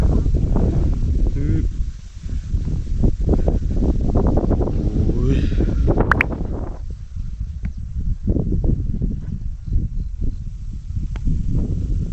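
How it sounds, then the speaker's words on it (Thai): Strong wind buffets the microphone in a steady, loud roar throughout, with brief rustling and knocks, at a mountain campsite at Pha Hua Sing, Phu Thap Boek, at sunrise. "ลมพัดแรงมากครับตอนนี้ตอนเช้าแล้ว"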